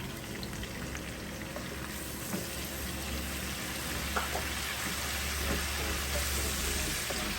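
Chilies and curry leaves fry in hot oil as a base for chicken 65 biryani, making a steady, moderately loud hiss and fine crackle with a low background hum.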